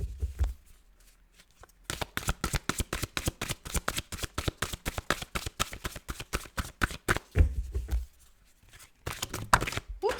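Tarot cards are riffled and shuffled close up in a long, rapid run of crisp flicking snaps, with a short pause before a final few shuffles.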